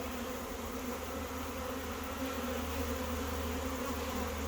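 A honey bee swarm fills the air with a dense, continuous buzzing hum, steady and loud throughout, with no voices.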